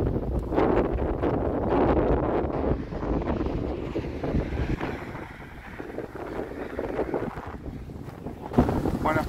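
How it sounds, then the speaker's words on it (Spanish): Strong headwind roaring across a microphone as a cyclist pedals through open countryside, a loud continuous buffeting rush with gusts rising and falling throughout. "Sabíamos que había viento en contra."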